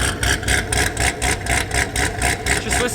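A 2007 Corvette C6 Z06 idles close by with a loud, lumpy, uneven engine note that pulses steadily throughout, and no one speaks over it.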